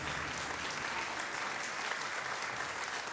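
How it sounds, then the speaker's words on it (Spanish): A concert audience gives strong, continuous applause for guitarist Oscar García, a dense and even wash of clapping heard throughout with no break. "Un aplauso fuerte, por favor, para Oscar."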